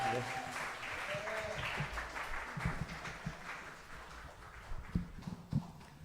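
At a Christmas Eve Sunday church service, the congregation applauds after sung praise. Tones linger at the start, then steady clapping follows and tapers, with a few louder thumps toward the end.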